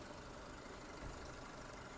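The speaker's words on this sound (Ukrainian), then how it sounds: "Робота двигуна," A two-litre naturally aspirated Renault Megane engine idles steadily with a low, even hum, filling the whole stretch at a constant level with no one talking.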